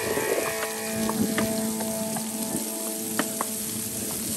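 Sweet potatoes fry in a big three-foot skillet outdoors at a veterans' cookout, giving a steady close sizzle with occasional pops and crackles.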